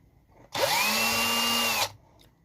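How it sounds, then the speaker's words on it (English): A power drill bores into a copper-clad circuit board for a Eurorack op-amp amplifier module, a loud steady whine with rising pitch as it spins up, held about a second and a half before stopping abruptly. "So drill here."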